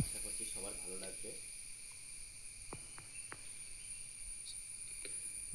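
Crickets and insects chirp in a dense forest, a faint steady high trill running throughout, with a voice speaking briefly at the start and a few soft sharp clicks.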